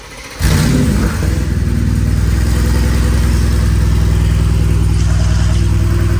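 A car running a full straight pipe with no exhaust at all roars to life after a brief quiet moment, then holds a loud, deep, steady rumble close by, with slight throttle swells and no talking.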